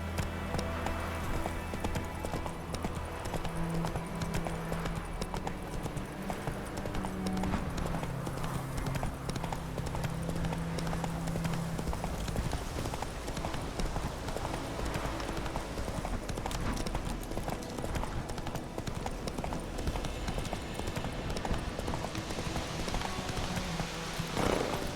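Roach the horse galloping in The Witcher 3, a fast continuous clip-clop of hooves running steadily throughout, with music or ambience underneath and occasional faint speech.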